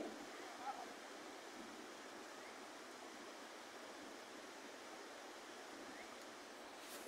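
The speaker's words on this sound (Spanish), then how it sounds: "está bastante crecido el río" The swollen Ostúa river rushing past in flood, a steady broadband roar of moving water that holds constant throughout without breaks.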